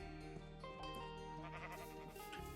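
Sheep bleating in Minecraft, a few repeated bleats layered over steady game background music, fairly loud and close with no talking.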